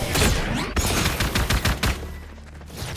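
Rapid bursts of gunfire from a Valorant esports match, dense overlapping shots and sprays ringing loud and close for most of the stretch before thinning out near the end.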